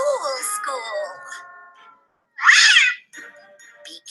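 An interactive Halloween witch-and-cat prop gives a single loud electronic meow after a stretch of recorded talking, and more chatter follows it.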